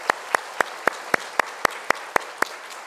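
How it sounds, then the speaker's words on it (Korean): A church congregation at a Sunday worship service claps to bless two members, giving about ten sharp, evenly spaced claps in a steady unison rhythm, close and fairly loud with no voices. "우리 두 분 큰 박수로 함께 축복하겠습니다."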